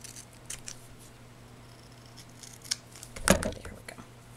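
Scissors trimming paper for a handmade card: a single crisp cut with a snip, close and clear, preceded by light paper rustling and handling noises in a quiet room.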